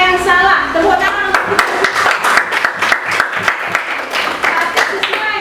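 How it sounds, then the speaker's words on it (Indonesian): Children clap their hands in a classroom lesson, with bursts of sharp claps mixed with young voices and chatter, loud and close. "Tepuk tangan."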